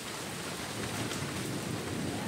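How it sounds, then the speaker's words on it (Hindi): Rain falls steadily in a dense, even hiss that stays loud and unbroken throughout, with no distinct thunderclap standing out. "ये देखो बारिश"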